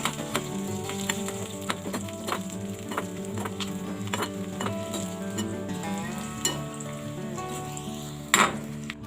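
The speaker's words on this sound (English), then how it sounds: "Finally, add dried chili and saute it again." Dried chili sautes in a hot pan for a cucumber curry, a steady sizzle and crackle with repeated sharp clicks of a utensil stirring against the pan, plus one brief louder scrape near the end.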